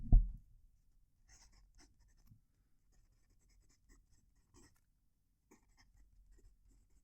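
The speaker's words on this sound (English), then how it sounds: "that is so loud to write with, and it feels like I'm dragging the nib over the paper" Fountain pen nib scratching across Otter journal paper, a series of faint, dry scrapes and short strokes after an initial thump, close up and quiet with no voices.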